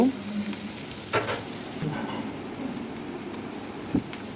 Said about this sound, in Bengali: প্রথমেই আমি সয়াবিন তেল রাইপ্যানে দিয়ে নিয়েছি তারপরে কাঁচামরিচ কুচি ও পেঁয়াজ কুচি দিয়ে